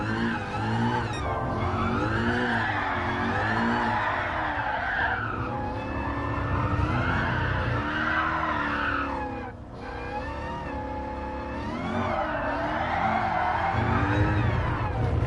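A car drifts on asphalt with loud, sustained tire squeal and skidding over a roaring engine. The pitch warbles and sweeps as the car slides, dips briefly near the middle, then surges again.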